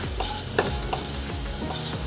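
Coriander seeds roast in a little oil in a pan. A continuous loud sizzle runs throughout, with rhythmic stirring strokes and soft clinks close by, and no talking.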